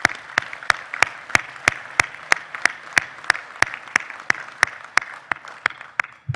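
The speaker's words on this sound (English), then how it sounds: "Please join me in a round of applause for these hardworking folks." Audience applause at a Buckskin Council Boy Scouts Friends of Scouting celebration luncheon, heard as a steady run of sharp, evenly spaced claps that keeps a regular beat for several seconds.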